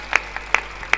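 A few sharp, separate claps ring out at a Hindi poetry recital, three crisp bursts spaced evenly over a quiet room with no crowd roar.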